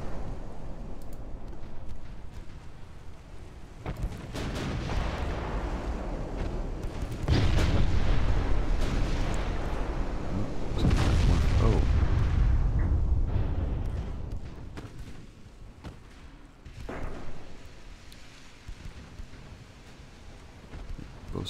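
Twelve-inch naval guns firing in a dreadnought-era warship battle game pitting Nassau against Lord Nelson battleships: heavy booming salvos roll out in a few long, thunderous swells over a constant low rumble, with quieter gaps between.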